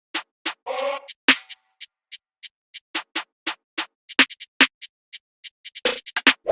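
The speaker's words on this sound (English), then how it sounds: "Then I also found this drill hi-hat." Crisp drill hi-hat pattern in a beat: short, bright ticks in a syncopated rhythm with quick rolls and gaps, played alone, with a brief tonal hit and a noisy burst near the start.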